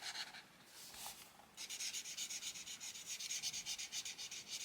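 Brush marker colouring on paper, drawn in close, soft scratchy strokes: a few brief rubs, a short pause, then a rapid, even back-and-forth rhythm of quick strokes continuing steadily.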